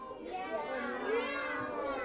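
A child imitates a cat's meow with a drawn-out, wavering high-pitched vocal sound, fairly faint and lasting a couple of seconds.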